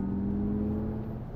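Artificial engine sound piped into the cabin of a 2024 Acura ZDX Type S, a steady low droning hum with a slight rising tone, heard briefly and alone.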